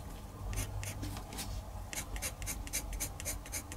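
Colored pencil shades a sunflower drawing on paper in short, spaced strokes. The soft scratchy scribbling comes in steady bursts, close up and quiet, with no voice over it.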